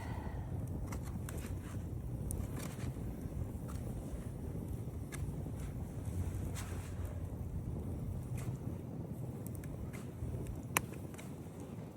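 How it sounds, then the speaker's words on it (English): Wind at a cold-weather campsite beside a campfire, a low steady rush buffeting the microphone throughout, with faint scattered crackles and one brief sharp click near the end; nobody speaks. "It's windy."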